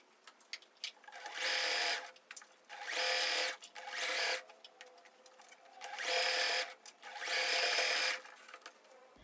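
A sewing machine stitching a fully lined teddy coat runs in five short bursts of fast, whirring stitching, separated by quiet pauses.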